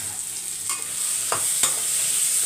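Green chili and curry leaves sautéing in a pan for tomato kurma, a steady close sizzle of frying with a few brief stirring scrapes, no voices.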